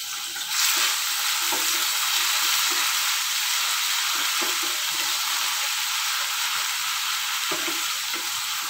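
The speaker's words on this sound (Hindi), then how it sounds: "अदरक लसन आपां पहलां तां भुनना है" Crushed ginger, garlic and green chili frying in hot ghee for dhaba-style paneer bhurji, a continuous bright sizzle throughout with a few soft clinks of stirring and no talk.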